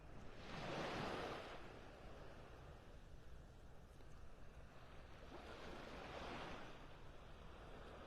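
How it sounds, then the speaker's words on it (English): Small waves lap gently on a calm beach shore in North Naples, Florida, in the dark of early morning, two soft washes rising and receding over a steady quiet ambient hiss. "Let the little waves lapping on the shore do the talking for you."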